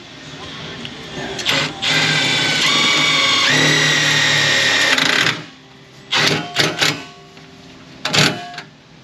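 A power drill drives screws into a car front-strut or intake area, giving a long whining run that ends in a clicking clutch, followed by several shorter bursts. Voices can be heard between the runs.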